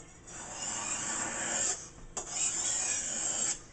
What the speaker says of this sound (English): I'm sharpening my knife. There's a sound I want you to hear.